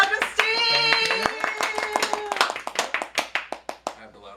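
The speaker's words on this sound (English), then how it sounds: "I have the loudest clap." Hands clap in a quick run that slows and spreads out as it fades, with a voice heard briefly at the start.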